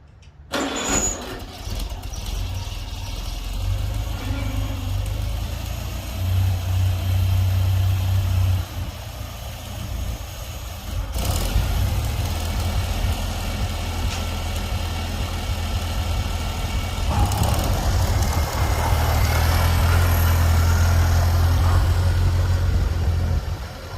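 A Farmall Cub tractor engine fitted with a new starter and new carburetor cranks and catches, then runs with a steady low chugging idle that rises slightly toward the end, close by.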